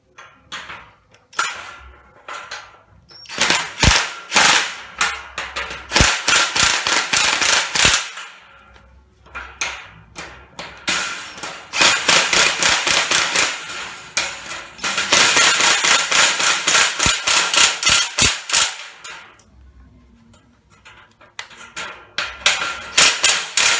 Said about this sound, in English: I snugged those up with the impact